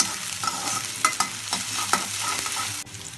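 Chopped onions fry in hot oil while being stirred, with close scraping strokes and clatter over a continuous sizzle, steady and fairly loud with no voices.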